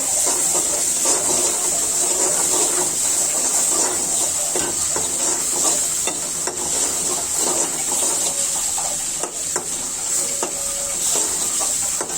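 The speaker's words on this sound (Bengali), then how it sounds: "ভেজে নিব শুটকির সাথে" Rohu fish roe fries together with dried loitta fish in a pan, a steady close hiss and sizzle with scattered crackles and light stirring taps running the whole time.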